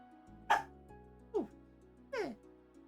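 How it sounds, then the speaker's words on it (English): A small dog gives three short, sharp barks spaced about a second apart at night, close and fairly loud against a quiet background. "He was trying to bark into the night."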